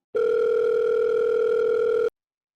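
A steady electronic telephone tone rings out alone for about two seconds, clean and continuous, then cuts off into silence.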